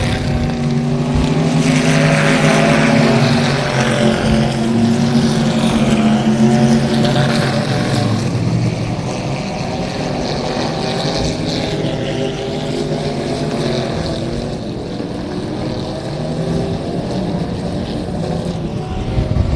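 Race cars roar around the dirt track at Texana Raceway Park, a loud, continuous engine snarl that rises and falls as the pack passes close by, with no talk over it.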